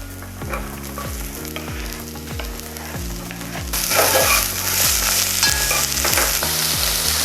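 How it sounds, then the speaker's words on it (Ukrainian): Steady sizzling of onion frying in a pan, growing louder partway through as carrot is added, with a rhythmic low thumping beneath. "Цибулька трішки підсмажилась, додаю до неї моркву."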